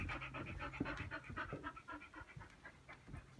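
A dog pants quickly and rhythmically up close during a training session indoors, a steady run of soft breathy huffs with no talking.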